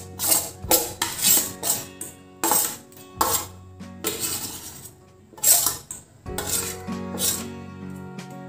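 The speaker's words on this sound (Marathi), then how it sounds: "कैरीचा किस मी आता ह्या कढईत काढून घेते आहे।" Grated raw mango scraped out of a container into a steel wok, repeated metallic scrapes and clinks of a spoon against steel coming in bursts, close and loud, with no talking.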